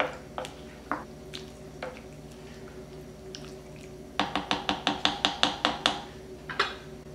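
Pork, rice and corn being stirred in sauce in a pot: soft wet squelches at first, then a quick run of about ten squishy, sticky strokes, close and fairly quiet, with no talking.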